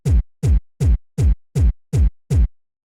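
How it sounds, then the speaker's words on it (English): Bass punch kick drum sample, trimmed short with lowered volume, thumps seven times at an even pace, each deep hit with a quick pitch drop and abrupt cutoff into silence. "To create the bass punch, I used this kick sample."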